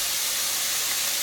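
About a tablespoon of bacon fat drippings sizzling in a pan, a steady, even hiss with no breaks, moderately loud and heard alone.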